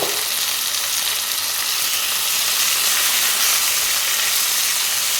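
Chicken marinated in yogurt and turmeric fries in a pan with a loud, continuous sizzle and crackle, close and unbroken throughout.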